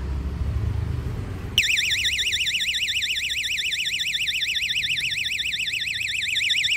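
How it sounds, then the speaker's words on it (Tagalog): A motorcycle's wireless anti-theft vibration alarm suddenly starts wailing, a loud, rapid warbling siren tone that rises and falls continuously, with faint engine or background rumble beneath. "tingnan natin pag ginalaw yung motor eh, malakas pa tong alarm"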